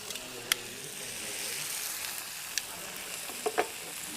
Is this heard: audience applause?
no